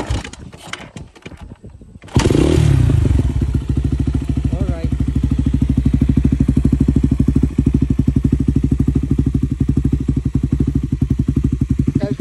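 A carbureted Suzuki Raider motorcycle with a modified engine and an aftermarket exhaust pipe is kicked a few times with dull clattering thumps, then fires up and keeps running loudly and steadily close by, with revs rising and holding.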